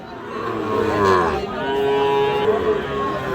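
Cattle, including a pied cow and Sahiwal bull calves, moo nearby with long, low drawn-out calls over a murmuring crowd and general bustle at a livestock market in Parbatipur, Dinajpur.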